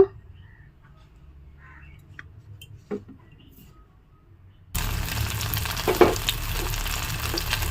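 Batter-dipped paneer pieces dropped into hot oil in a kadai, starting with a quiet stretch and a few faint taps, then breaking into a sudden, loud, steady frying sizzle that continues close up.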